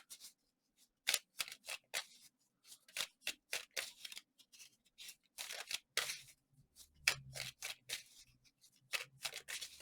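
Tarot cards shuffled by hand in a quiet room, a steady series of soft, crisp riffles and slaps with brief gaps in between.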